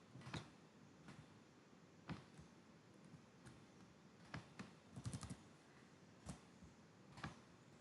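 Keystrokes on a computer keyboard, soft irregular clicks spread across several seconds with a quick cluster in the middle, close and quiet against a faint room hum.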